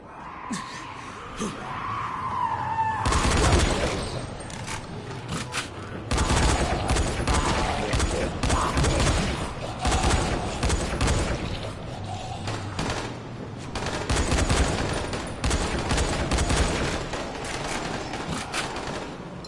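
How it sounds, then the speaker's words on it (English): Grenade explosions in the zombie game Dying Light: The Following, several loud blasts mixed with chaotic gunfire and screams, coming in waves over about twenty seconds. "It's grenades they're throwing at us."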